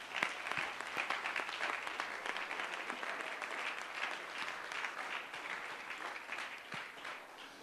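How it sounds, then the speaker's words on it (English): A church congregation claps its hands during a sermon, a steady dense patter of many palms continuing throughout, moderately distant and even in level with no voices on top. "Let's stop for a moment, clap our hands unto him,"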